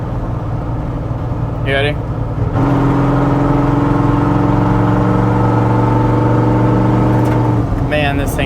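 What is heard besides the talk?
Chevrolet Suburban engine revving as driver gives it gas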